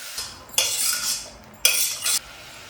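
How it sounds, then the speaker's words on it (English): A utensil stirring vegetables in a pot, two bursts of metallic scraping and clinking against the pot, close and alone. "Giving it a good stir to all the vegetables together at once"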